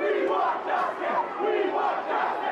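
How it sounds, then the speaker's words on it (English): Angry protest crowd storming Kensington Town Hall, a dense roar of many shouting voices swelling and ebbing, loud and close with no single speaker standing out. "A crowd storms Kensington Town Hall,"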